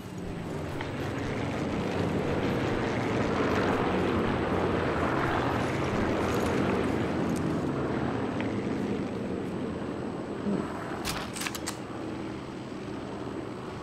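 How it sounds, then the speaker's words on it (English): A steady engine drone, like an aircraft or helicopter, hums continuously at moderate distance in Sniper Elite 4 on San Celini Island, with a few brief sharp clicks near the end. "Hear an engine."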